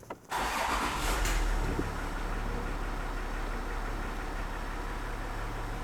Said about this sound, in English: I wanna turn on the car and listen to it and see if it sounds nice.